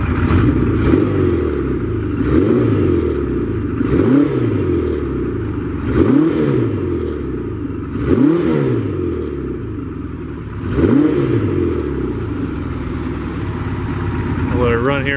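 A one-owner 1974 Kawasaki Z1 motorcycle engine running with a little choke, idling steadily up close and revving in regular swells about every two seconds, someone speaking briefly over it.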